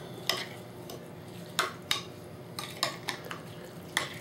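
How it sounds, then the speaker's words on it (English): Barbecue rib sauce stirred in a bowl, a series of sharp spoon-on-bowl clinks and scrapes in uneven bursts, close and fairly quiet with no talking. "Mix it up."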